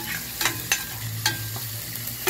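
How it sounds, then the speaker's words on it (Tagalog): Native petchay and carrots sauté in a pan with garlic, onion, tomato and oyster sauce, making a continuous close sizzle broken by several sharp scraping strokes as the food is stirred. "Ginisa ko na siya sa garlic, onion and tomato guys."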